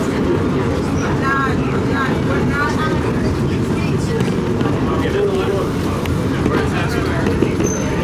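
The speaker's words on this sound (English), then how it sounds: "This train will not stop here." A subway train runs through an underground station with a loud, steady roar and rattling rumble that lasts throughout, and faint voices can be heard beneath it.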